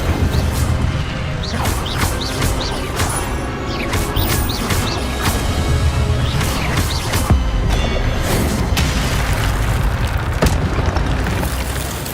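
Incendio fire spells cast repeatedly in Hogwarts Legacy, loud booming fiery bursts arriving in quick succession over constant game noise, with a voice briefly heard.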